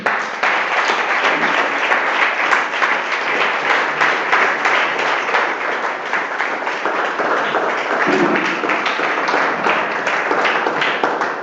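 A church congregation applauds with loud, dense, sustained clapping that continues evenly throughout.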